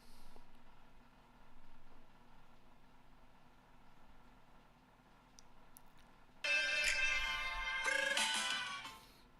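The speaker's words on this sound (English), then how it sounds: "That's my phone." A mobile phone ringtone bursts in loud and bright, a busy electronic melody playing for about three seconds before cutting off, over a quiet room hum during a live market analysis session.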